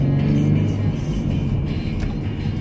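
A 2014 Ford Mustang V6 engine hums loudly and steadily from inside the car, a low continuous drone with slight rises as it gains speed.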